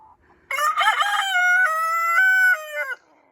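A backyard rooster gives one full cock-a-doodle-doo, loud and close, its long wavering crow lasting about two and a half seconds before cutting off into quiet.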